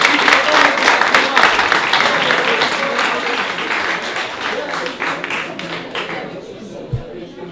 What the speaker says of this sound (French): On l'applaudit déjà, on l'encourage